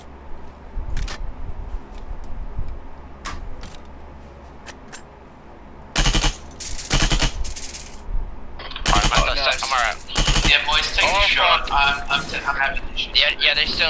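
ArmA 3 rifle gunfire with tracers, sharp bursts of shots hitting in clusters around six to eight seconds and again from nine seconds on, loud and close, mixed with game noise and broadband clatter.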